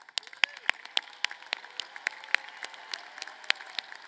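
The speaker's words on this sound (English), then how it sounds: "Let's have a round of applause." Scattered, uneven clapping from a graduation commencement audience, sharp individual claps popping out of a softer patter for about four seconds, moderately distant and fairly quiet.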